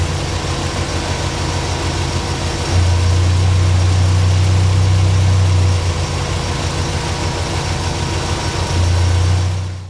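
Mk1 Ford Escort engine running steadily on a rolling road during a Krypton cylinder test, a loud continuous drone whose pitch and level jump for a few seconds, then dip back and rise again briefly near the end.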